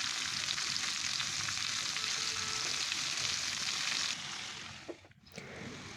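Cabbage and potato pieces fry in a pan with a steady close sizzle while being stirred, the hiss dropping slightly near the end and a brief scrape of the utensil just before it stops.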